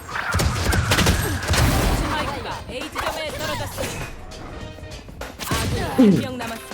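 Video game gunfire comes in loud, heavy bursts, strongest at the start and again near the end, with a voice talking over and between the shots.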